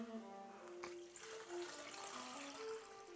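Water poured into a 4 or 5 cup coffee maker's reservoir for brewing Tetley decaffeinated tea, a steady close trickling and splashing stream that runs the whole time with no talk over it.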